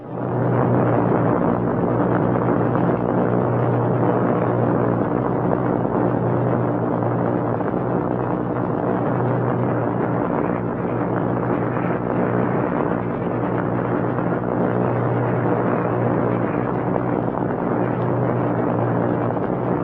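Second World War bombers in flight near Adak in the Aleutians at about 165 miles per hour, a dense steady engine roar with constant droning tone, loud and unbroken throughout.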